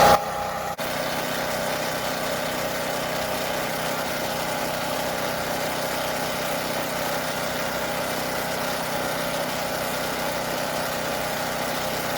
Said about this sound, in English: how loud the generator is running